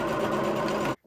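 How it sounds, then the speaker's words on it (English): A sewing machine runs in a quick continuous burst stitching blouse shoulder seams, close and steady, then stops abruptly into near silence. "we're going to stitch these shoulder seams"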